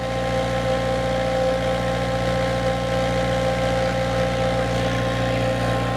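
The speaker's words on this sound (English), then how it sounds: "First thing I'm going to do is turn on the machine with our safety sensor switch." SealMaster sealcoating squeegee spray machine engine running at a steady idle, a continuous close drone with constant level throughout.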